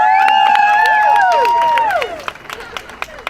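Wedding guests at a ceremony break into clapping and whoops over lingering sustained voices, the cheering fading to scattered claps near the end.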